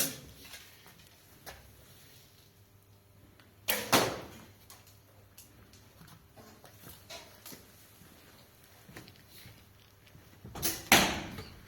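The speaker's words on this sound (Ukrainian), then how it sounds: "Продовжимо постріли двома стрілами." Arrows shot from a bow at a rubber balloon target land as two sharp, loud impacts about seven seconds apart, with faint ticks and knocks in an otherwise quiet space.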